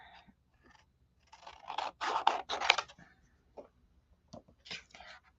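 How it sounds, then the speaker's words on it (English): Big scissors snipping through paper or card during stamping crafts, a cluster of close crisp cuts mid-clip followed by a few softer isolated snips, recorded in a quiet room. "I'm going to start with these big scissors."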